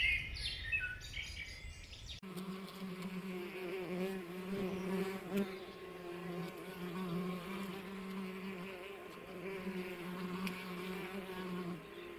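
A dense, steady buzzing of many tree bumblebees close by at their nest in a brick wall, with faint bird chirps in the background and a brief different sound at the start.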